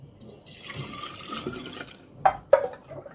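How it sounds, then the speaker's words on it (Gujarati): Water trickles from a clay pot into a bottle, a faint liquid stream followed by a couple of sharper splashing drops near the end. "ને પાણી પીવા જોઈએ ને એટલે એક બોટલ હું ભરતો જાઉં"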